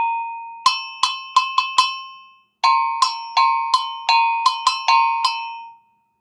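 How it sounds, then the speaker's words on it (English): An African two-tone metal bell rings clearly, struck alone in two bursts, about five quick hits and then about eight more, each strike leaving a bright, ringing tone that decays briefly. "First, we have this bell."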